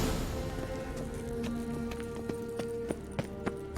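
Horse hooves beat in The Witcher 3 game, a quick rhythmic clip-clop of a galloping mount growing sharper and more distinct toward the end over a soft ambient hum.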